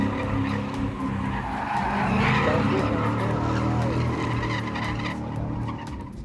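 A car drifts in tight donuts, its tires skidding and squealing continuously over a revving engine. The sound is close and loud throughout, then eases slightly at the end.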